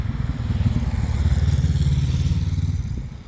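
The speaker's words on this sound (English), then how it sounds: "Excuse the traffic noises." A motorcycle rumbles past on a road beside a garden in late January, its low engine growl swelling and holding steady before easing off slightly as it moves on, with no voices.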